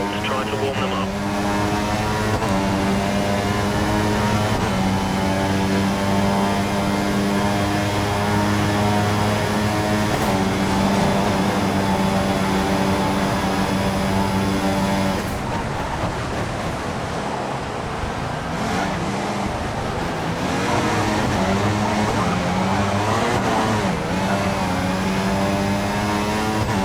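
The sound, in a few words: Williams F1 car engine at Suzuka, F1 2014 video game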